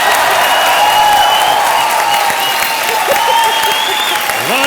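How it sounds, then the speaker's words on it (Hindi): Studio audience applause on a Hindi TV talk show, a dense, steady roar of clapping throughout with crowd noise and faint voices underneath. "तालियां।"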